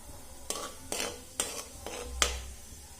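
Tempering spices in hot oil in a pan, heard as a soft background sizzle broken by five sharp, evenly spaced scrapes and clinks of a spoon stirring against the pan, close and fairly quiet.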